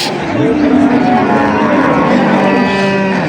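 A dairy cow at the Ambari livestock market in Dinajpur gives a long, loud, wavering moo, with market crowd noise underneath throughout.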